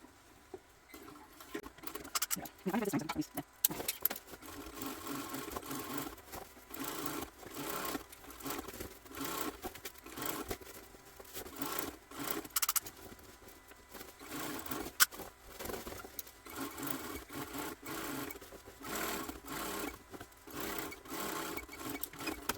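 A sewing machine stitches a fabric bag in steady bursts of rapid patter, loud and close, with brief pauses as the seam restarts and the bobbin thread runs out.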